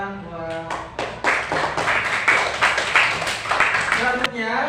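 Fifth-grade pupils clapping hands in a classroom, a series of sharp rhythmic claps building into lively group clapping, with voices before and after.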